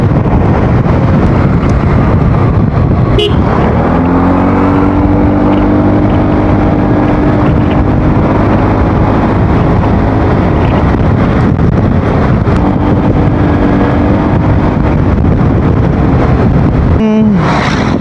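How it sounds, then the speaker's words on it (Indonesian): Strong wind buffets the microphone in a loud, constant roar while riding a Yamaha XMAX scooter, with a low engine hum underneath. "Anginnya gede banget ini."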